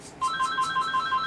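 A phone keeps ringing with an incoming call, its electronic ringtone repeating in short, evenly spaced bright beeps. Moderately loud, close by, and alone with no talk.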